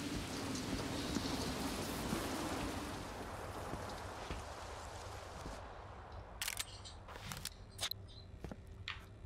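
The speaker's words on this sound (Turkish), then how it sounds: "Şu an mesela bir yağmur sesi dışında herhangi bir ses bulunmuyor oyunumuzda." Rain in the video game Get Even, a faint, steady hiss of falling drops that thins out partway through, leaving a quieter patter broken by a few sharp clicks.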